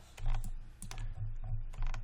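A computer keyboard clicks in a run of quick, close key presses while modeling in Maya 2017, with no talking over it.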